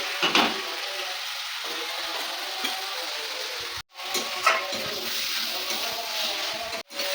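Prawns drop into a pan of elephant foot yam stems with a sharp splash, followed by a steady close sizzle, broken by two brief silent gaps.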